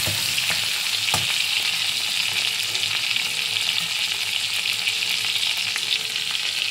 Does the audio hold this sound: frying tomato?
yes